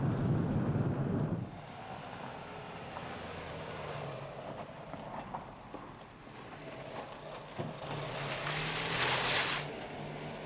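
A Dacia Duster 1.6 petrol two-wheel drive drives over a dirt track, its engine giving a steady low drone with rumbling and faint crunching from the uneven ground, and the sound swells toward the end.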